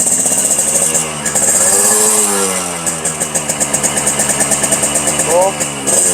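A two-stroke motorcycle engine idles and revs up close, loud and steady, with a rhythmic throttle blipping through the second half, and someone talks briefly over it.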